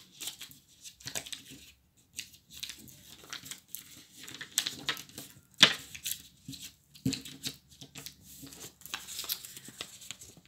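Sheet of paper folded and creased by hand during a folk ritual, with bursts of crinkling, rustling and brisk creasing strokes, close and moderately soft, uneven in rhythm, with no talk.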